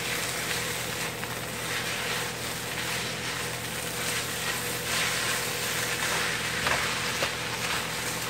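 Pork fried rice sizzling and crackling steadily in a hot pan as it gets stirred, a dense, even frying hiss with faint scraping that holds at a constant level throughout, with no voices.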